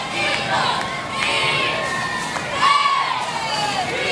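A crowd of young cheerleader elves shouting a spelled-out cheer at a Christmas parade of lights in Fort Worth, loud, bright and continuous, with chanting voices over outdoor crowd noise.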